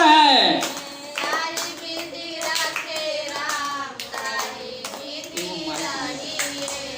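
A group claps rhythmically along to a Hindu devotional chant of Sita-Ram, steady sharp hand claps keeping the beat under several singing voices, close and lively throughout.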